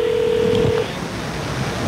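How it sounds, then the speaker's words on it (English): Telephone DTMF dialing tones played as one steady, loud beep lasting under a second, followed by a faint noisy hiss. "You can just hold those tones up to your phone and it'll dial."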